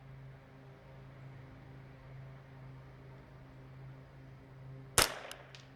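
A single sharp crack from a Kidd 10/22 .22LR rifle firing Eley Tenex ammunition cuts through a low steady background hum outdoors, followed by a faint echo.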